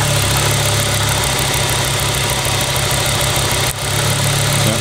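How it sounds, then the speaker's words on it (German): An Audi RS2 engine idles at close range, and its steady rumble falters briefly as the injector cables are wiggled. The sound is loud and continuous with no talking. "Wir lassen ihn mal im Leerlauf laufen, wackeln noch mal an den Einspritzdüsenkabel"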